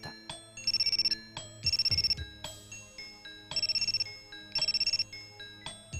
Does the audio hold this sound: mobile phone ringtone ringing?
yes